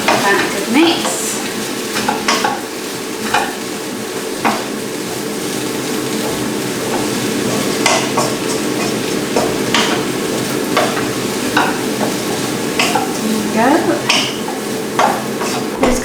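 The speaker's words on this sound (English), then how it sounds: "Just sprinkle it over the top. Give that a good mix." Spiced sweet potato pieces being stirred and tossed in a sizzling pan for vegan fajitas, with repeated scraping and clinking of a utensil over a steady frying hiss, close and fairly loud, with no one talking.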